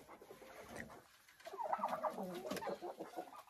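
Young hens cluck in a chicken coop, with a soft murmur at first and then a louder, busier run of overlapping clucks from several birds close by.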